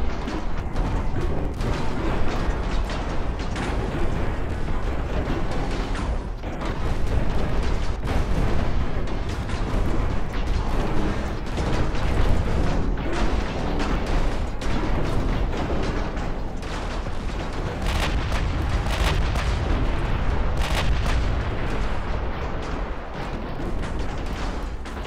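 The Yamato battleship's guns firing in the naval video game Ultimate Admiral Dreadnoughts, a long, loud barrage of booming salvos and explosions that overlap almost continuously, with no talk over them.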